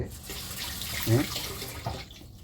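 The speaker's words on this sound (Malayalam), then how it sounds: "കുറച്ച് വെള്ളം ഒഴിച്ചിട്ട് കൈ നല്ലോണം കഴുകണം" Hands being washed under running water from a tap in a home kitchen, a steady wash of water with a brief louder splash midway, while a person talks over it.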